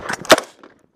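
A single sharp carbine shot cracks close and loud after a tap-rack malfunction drill on a shooting range, decaying quickly into a brief echo.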